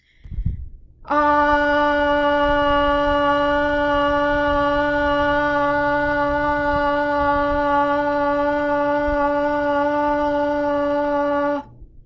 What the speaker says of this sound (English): you're going to hold this ah sound as loud as you can for 10 seconds